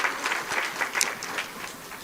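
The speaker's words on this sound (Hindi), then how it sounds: "एक बार दोनों हाथ उठा के ताली बजाइए भैया" A crowd applauds at a Hindi poetry gathering, a dense, steady patter of many hands clapping close by that holds for about two seconds without pause.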